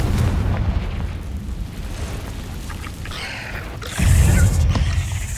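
A Confringo blast spell in the Hogwarts Legacy game bursts out as a loud, deep explosive boom with a crackling tail, set against a constant rumble of combat.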